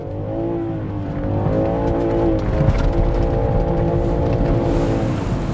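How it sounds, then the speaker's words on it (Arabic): A 2020 Land Rover Defender accelerating hard, its engine rising from a rumble into a loud, sustained revving roar with climbing harmonic tones, close and continuous for several seconds. "نعطيكم دوسة تسارع، تشوفوا قوة السيارة."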